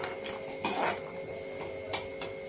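Cashews roast lightly in ghee in a pan, giving a faint, quiet sizzle with soft scraping and clinks of a utensil against the pan, including a few brief louder stirs.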